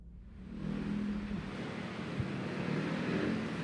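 Heavy road traffic on EDSA in Metro Manila: a steady, dense engine rumble and tire roar from many vehicles, with one brief low thump partway through and no voices.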